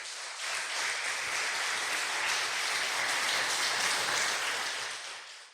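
Congregation applauding at a sermon on the parable of the unjust steward, a full, sustained roar of many hands clapping that holds steady before fading out at the end.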